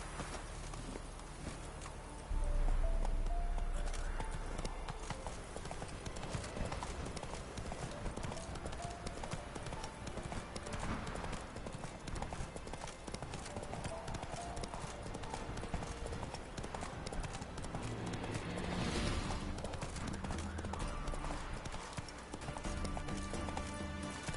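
Horse hooves clip-clop at a steady walking rhythm in The Witcher 3: The Wild Hunt, moderately close and continuous, with game ambience and occasional soft effects underneath.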